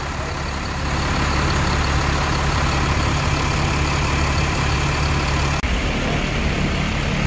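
A Ramayana bus idles at a terminal, its heavy diesel engine giving a steady low rumble throughout with a brief dip near the end.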